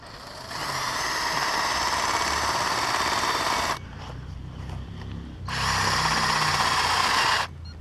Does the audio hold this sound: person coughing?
no